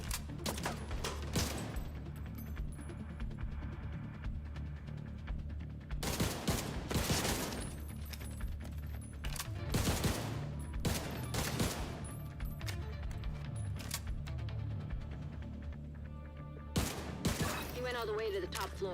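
Gunfire rattles in The Division 2 video game, loud repeated bursts of rapid shots in several separate volleys, with a person talking between and over them.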